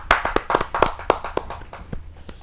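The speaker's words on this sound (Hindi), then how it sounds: "जोरदार ताली के साथ" Audience members at a Hindi poetry gathering clap, producing a sparse, uneven run of distinct hand claps, fairly close, that thins out toward the end.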